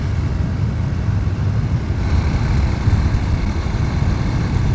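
A 2026 Honda C125 motorcycle rolling on in top gear from 30 to 40 mph uphill, its small engine a steady low drone mixed with wind rush, close and continuous without clear gear changes.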